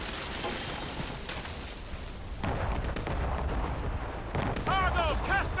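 Ship cannons fire a broadside in a naval video game battle, with repeated deep booms and crackling blasts rolling over a noisy battle bed, while voices shout over the fire near the end.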